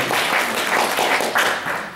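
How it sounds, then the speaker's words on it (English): An audience at a sales and compensation-plan seminar claps in a continuous, even burst of applause, a dense crowd sound with no individual claps standing out. "Give them a round of applause."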